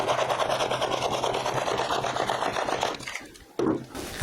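Fishing boilie dough is rolled out on a ridged rolling board, making a continuous close scraping and rubbing sound for about three seconds, then a brief dip and a short final rub.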